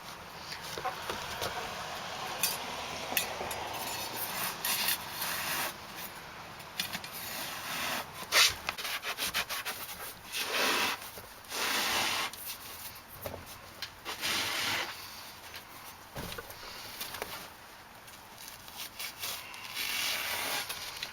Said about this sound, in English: So we're not going to squish it down, we're just going to cut the line.